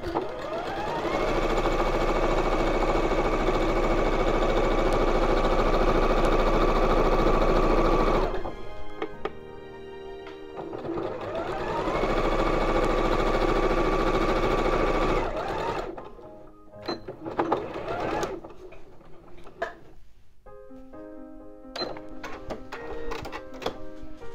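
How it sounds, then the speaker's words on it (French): A sewing machine stitches a seam in skirt fabric with the needle set 5 mm from the presser foot edge, running in two long loud bursts of rapid mechanical whirring separated by a pause, then tapering into shorter irregular runs and clicks. "j'ai positionné mon aiguille de telle sorte que je sais que si mon tissu passe au bord de mon pied presseur, mon aiguille pique à 5 mm"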